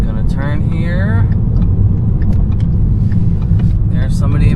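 Deep, steady rumble of a Ford Mustang Shelby GT350 engine while driving, heard from inside the car, with someone talking over it.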